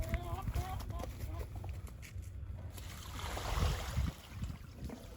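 Old water dumped out of chicken water containers outdoors, a rushing splash that builds and swells near the middle, then cuts off, with a little background noise and faint clatter.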